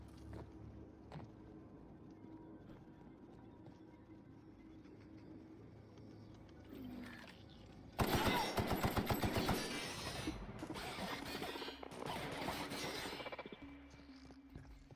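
Bursts of gunfire in The Outer Worlds, a loud rattling volley from about eight seconds that runs several seconds over quieter game ambience, with a second cluster of shots shortly after.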